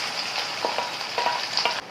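Onion and garlic fry in an old pan with a bright, steady sizzle, and a few soft stirring scrapes rise through the crackle.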